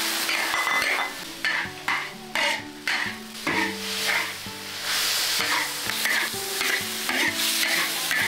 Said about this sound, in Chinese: 现在开始炒菜，先炒肉